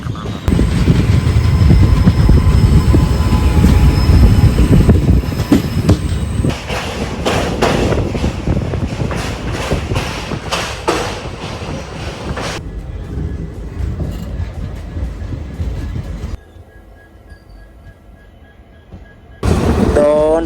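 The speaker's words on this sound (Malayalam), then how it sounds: "വരുന്നത് ഗുരുവായൂർ മധുരൈ എക്സ്പ്രസ് ആണ്." The Guruvayur–Madurai Express passing on the busy Ernakulam–Thrissur line in Kerala, a loud, sustained rumble with rapid wheel clatter that fades midway, goes quiet for a few seconds, then returns.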